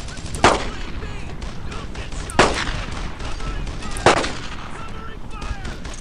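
Heavy gunfire in the Brothers in Arms: Earned in Blood video game, three loud single blasts spaced a couple of seconds apart over a constant rumble of battle noise.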